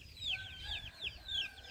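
A rooster and hens in a coop with new wire screening give repeated high clucks and calls, four distinct bursts spaced across a short stretch, moderately close over a steady low background hum.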